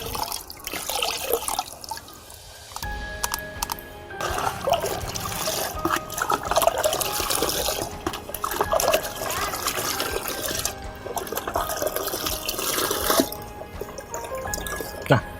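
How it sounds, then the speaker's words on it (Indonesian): Water with molasses being stirred and poured as a mycorrhiza isolate is mixed in, with dripping and trickling liquid sounds continuing throughout, fairly close and steady. "isolat Mycozaria ini akan saya campurkan dengan air yang saya beri molase atau gula, tetes tebu ya"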